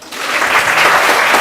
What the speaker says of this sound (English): You can give me a clap if you like that.